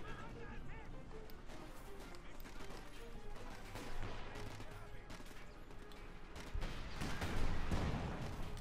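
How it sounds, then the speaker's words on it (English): Artillery fire in Company of Heroes 2 during a 1v1 match, with shell bursts and gunfire rumbling in a busy battle mix. A commentator talks over the steady fighting, and a louder blast swells near the end. "Artillery fire there"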